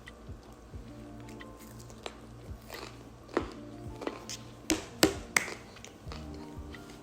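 Someone bites and chews sausage close to the mic, producing quiet, irregular wet crunches and squishy taps spread over several seconds, with no talking.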